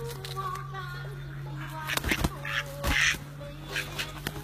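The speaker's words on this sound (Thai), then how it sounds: "นี่คือเสียงของเป็ดตัวผู้นะครับ" A male laying duck gives raspy calls, a few short bursts close by, over a steady background hum with some voices in the background.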